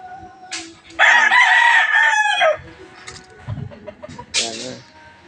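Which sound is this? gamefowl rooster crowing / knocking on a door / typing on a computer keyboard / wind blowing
gamefowl rooster crowing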